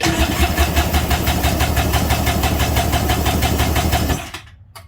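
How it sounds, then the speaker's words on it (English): A Kawasaki JS 440 jet ski engine cranks over with the throttle body held open for a compression test. The loud, steady, rapid chugging lasts about four seconds, then cuts off abruptly. "I'm holding the throttle body open and I'm gonna try to crank it now."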